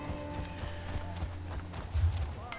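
Rhythmic clip-clop of horse hooves in a video game, a quick steady trot heard over a soft tonal game backdrop, with a louder burst near the end.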